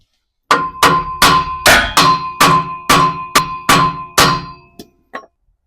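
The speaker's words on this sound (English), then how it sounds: "So what better tool than a hammer?" A hammer strikes the metal exhaust clamp on a Jeep Wrangler JL during a Redrock aftermarket exhaust install, nine loud ringing metallic blows in a steady rhythm about half a second apart, each followed by a short clang, then one fainter final tap.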